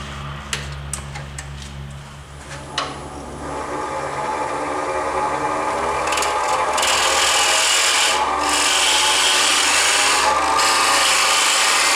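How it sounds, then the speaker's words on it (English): A diamond cutter shapes a dovetailed wooden tenon on a spinning lathe, giving a few sharp ticks, then a rising, continuous scraping rasp over the steady low hum of the machine. "So I'm going to switch over to the diamond cutter and finish out the tenon."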